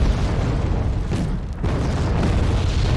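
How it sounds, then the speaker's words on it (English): Enemy artillery strike in the war strategy game Wargame: Red Dragon, heavy rumbling explosions rolling continuously with a dense low boom throughout, no voices. "Enemy artillery."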